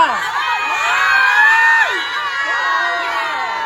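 A crowd of children at a community Zumba and games event shouts and squeals together, loud and excited, with overlapping high voices rising and falling.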